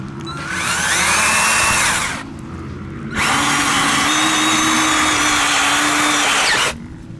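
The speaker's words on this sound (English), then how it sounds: "I got this auger drill bit thing here" An auger drill bit on a power drill bores into front-yard soil for zoysia grass plugs: two loud, close, sustained whirring bursts separated by a short pause, with no talking.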